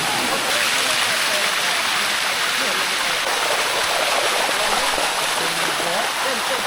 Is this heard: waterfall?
yes